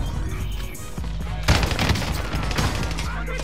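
Shotgun blasts ring out in the Warzone video game on Rebirth Island, several sharp loud bangs in quick succession after a quieter stretch, with a player's voice talking over the action.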